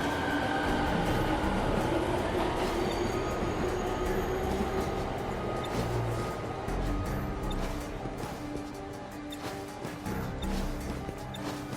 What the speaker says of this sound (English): The train's already here, so I'm gonna go.